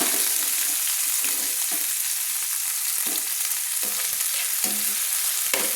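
Chopped tomato sizzles in hot oil in a pan while a spatula stirs it, giving a constant loud fry hiss broken by periodic scraping strokes.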